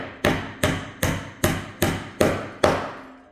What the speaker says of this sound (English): I want to make sure I'm hammering straight down